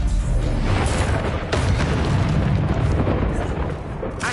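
Fire spell blasts cast in Hogwarts Legacy, a dense, loud run of booming bursts and crackling roars, one after another with barely a pause.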